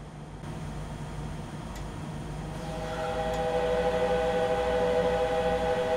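A BR 426 electric multiple unit in Train Simulator 2015 pulls away from Augsburg Haunstetterstraße on the Augsburg to Munich line, its steady rumble joined by a rising, tonal motor whine as it gathers speed.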